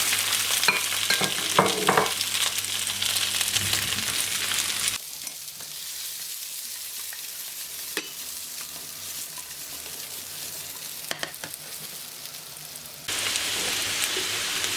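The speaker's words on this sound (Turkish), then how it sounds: "Artık patatesleri ekleyip güzelce kızartacağım bu yağın içinde." Loud, steady sizzling of potatoes frying in hot oil, dropping to a quieter crackle midway before the full sizzle returns; occasional clinks of a utensil.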